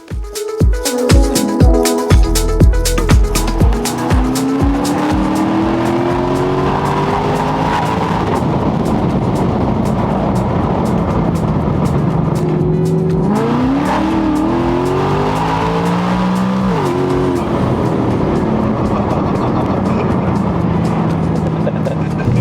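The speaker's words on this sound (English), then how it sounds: "So we're out in the car now, just driving it on the road" A supercharged Ford Mustang GT engine drones steadily on the road, shifting pitch as it speeds up and eases off, loud and close throughout.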